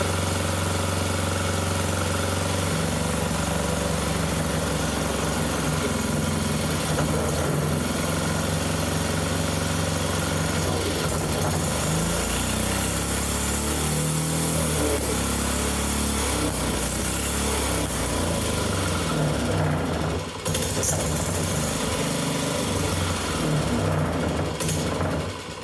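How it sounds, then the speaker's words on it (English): A small old engine runs steadily at a constant idle, close and loud throughout, with an even mechanical rumble and no talking. "What a great little engine."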